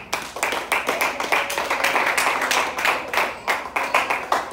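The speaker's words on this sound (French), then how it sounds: "Applaudissons la parole." A church congregation claps together in a steady, slightly uneven rhythm, close and loud, a dense run of hand claps lasting a few seconds with no one speaking.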